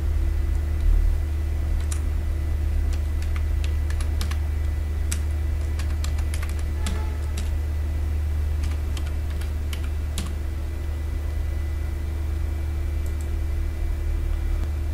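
Computer keyboard typing while working in Cisco Packet Tracer 7.3.1, with sparse, soft key taps in small irregular clusters over a steady electrical hum and background hiss, no voices.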